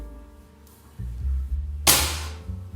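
One loud, sharp report from a bare-stocked air rifle, fired close by after a low mechanical rumble of handling, with a short fading tail.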